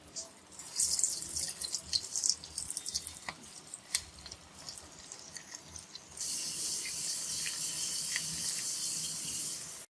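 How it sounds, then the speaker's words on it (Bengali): Lentil fritters (dal bara) dropped into hot oil, giving a steady bright sizzle that starts soft and broken, then swells into a loud, continuous hiss for the second half. "আমরা ডালের বড়াগুলো এখন গরম তেলে ছেড়ে দিচ্ছি"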